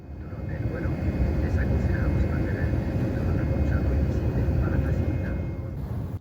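Steady, loud engine and air roar fills the cabin of an Air France Hop airliner as it climbs, a continuous drone that holds throughout with a voice talking over it.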